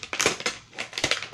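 Several sharp crunchy snips come in quick bursts, close and crisp, as scissors cut through stiff plastic toy packaging ties, with brief pauses between cuts.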